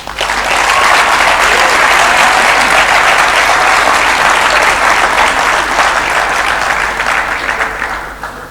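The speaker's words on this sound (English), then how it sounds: "I would like to ask our graduates to applaud their families, friends, and spouses for the support they received over the years" Dense, sustained applause from a large audience at a university graduation ceremony for the Faculty of EBIT, a steady roar of many hands clapping for several seconds before tapering slightly at the end.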